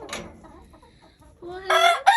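Backyard chickens in a coop cluck and call, with a rooster-like crow rising near the end; close, lively and loud against a quiet morning background.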